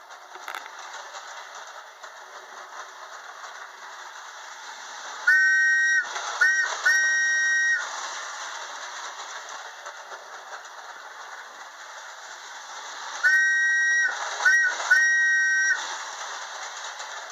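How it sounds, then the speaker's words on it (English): A Lionel toy train's steam whistle blows twice, each a series of short and long shrill toots, over a constant hum of the running model train. "Cut that whistle off."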